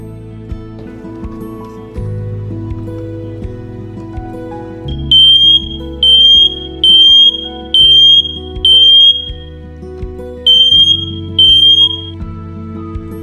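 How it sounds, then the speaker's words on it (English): SITERWELL GS886-H02 smoke and CO detector alarm going off: a loud, piercing beep pattern repeating in quick groups over a low steady background hum, no talking. "One thing I really like about this smoke detector is that it's bilingual, so it alarms you in French and also English"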